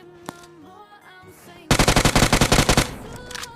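Automatic gunfire in the BGMI battle royale game sounds as one loud rapid burst of about a dozen shots, preceded by quieter game ambience and a faint single shot.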